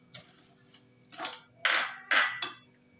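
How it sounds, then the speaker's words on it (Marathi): Coarse lapshi wheat with finely chopped coconut roasting in ghee being stirred, a few dry scraping strokes of a spoon against the pan, close and fairly quiet, growing fuller toward the end. "लापशीच्या भरड्यामध्ये मी बारीक कट केलेलं खोबरं आहे ते टाकून घेत आहे. ते व्यवस्थित मिक्स करून घेऊया."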